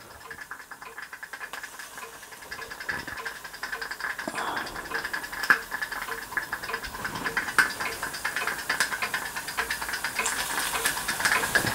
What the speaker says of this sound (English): safety valve's just beginning to blow off